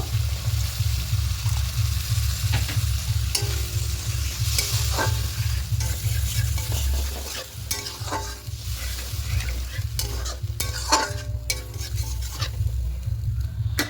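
Spice paste for a Bengali bhola fish tel jhal curry sizzles loudly in a pan as water goes in, with steady rhythmic stirring scraping through the continuous frying hiss.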